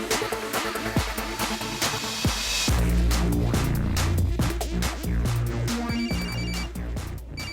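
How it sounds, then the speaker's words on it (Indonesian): A telephone rings with a repeated electronic tone pattern amid background music, loud and continuing throughout without speech. "Dapat telepon dari siapa, Tin?"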